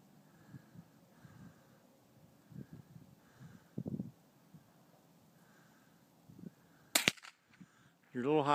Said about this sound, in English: shoot it again then